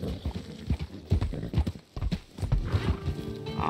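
Horse hooves clop in a steady, close rhythm on a road in the Red Dead video game, with a whinny near the end and faint speech in the background.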